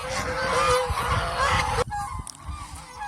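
Geese raised for breeding honk loudly and close together, overlapping calls filling the first half before a quieter stretch with a few more scattered honks.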